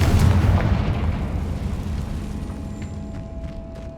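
A Confringo spell explosion in the Hogwarts Legacy video game: a single loud, deep boom that hits at once and then rumbles and fades away over a few seconds.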